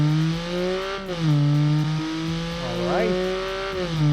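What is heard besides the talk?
turbocharged 3-cylinder all-wheel-drive car engine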